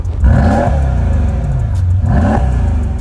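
A Mercedes-Benz S 63 Brabus engine revs twice in a deep, loud rise and fall, close by, with a steady rumble between the two blips and no talking.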